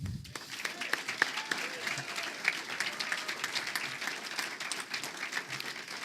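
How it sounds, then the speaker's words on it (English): Applause from the audience at a USL Memphis soccer club introductory press conference, a sustained, fairly soft roomful of clapping that continues evenly throughout with faint murmurs mixed in. "Please, one more round of applause for Tim."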